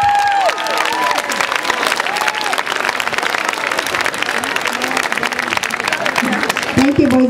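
Audience of students and families at a 2009 intermediate school award ceremony breaks into sustained applause, dense clapping filling the room with scattered cheers and some voices, steady loudness throughout.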